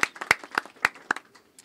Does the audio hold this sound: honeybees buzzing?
no